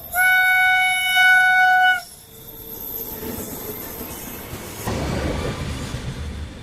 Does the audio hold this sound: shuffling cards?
no